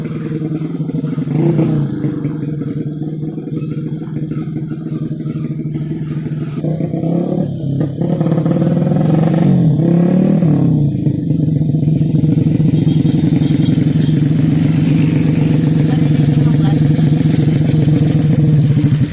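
A 130cc street-tuned motorcycle engine with an open valve and a slipping clutch, revving loudly and close in a steady drone that swells in rough surges midway, no talking.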